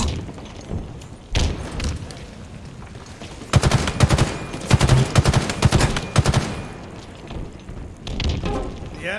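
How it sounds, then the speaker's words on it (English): In a Halo zone-capture match on Xbox Series X, a grenade toss is followed by dense rapid gunfire with thumps and bursts. The shooting runs loud and continuous through the middle, over a steady background of game sound. "Toss a grenade."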